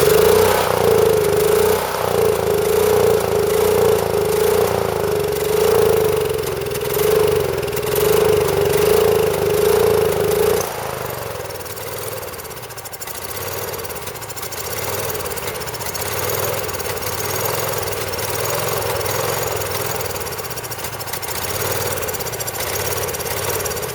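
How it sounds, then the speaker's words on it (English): Champion generator engine kept running on sprayed carb cleaner, a steady loud idling drone with rhythmic knocking pulses that drops in pitch and level midway, continuing rougher and quieter. "I'm going to see if I can keep it running with carb cleaner."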